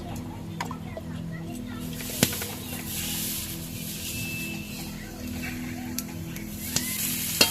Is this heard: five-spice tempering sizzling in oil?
yes